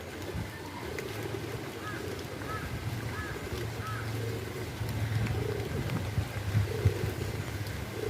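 Pigeons at a nest coo in low, repeated murmurs over a steady background rumble on a rainy day, with a few higher calls mixed in.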